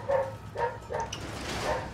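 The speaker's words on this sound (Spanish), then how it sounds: "Perro del vecino de verdad que está enamorado" A dog barks in the horror video game The Evil Within, giving four or so short, moderately close barks in an uneven rhythm over a low background hum.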